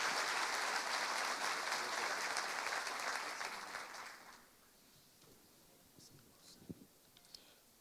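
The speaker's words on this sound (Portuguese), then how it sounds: "Dá um forte aplauso a Jesus" A church congregation bursts into loud, dense applause after a prayer. It keeps up steadily for about four seconds, then drops away, leaving a quiet room with a few scattered claps and small noises.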